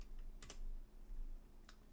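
A computer keyboard is tapped a few times while a folder is renamed, giving two quick clusters of soft, close clicks over a quiet electrical hum.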